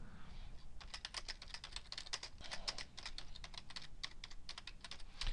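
Quick, quiet keystrokes clatter on a computer keyboard in irregular bursts while a chart title is typed into a spreadsheet, close and soft throughout.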